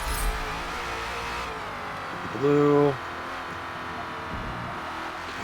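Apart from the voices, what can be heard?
Ford Falcon FG X engine in Forza Motorsport video game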